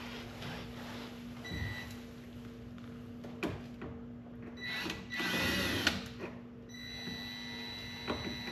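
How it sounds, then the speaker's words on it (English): A 1/8 inch drill bit whirs through a Can-Am Defender fender in a few brief bursts, steady and moderately close, amid a faint background hum. "you'll drill through that guide ring out through the fender"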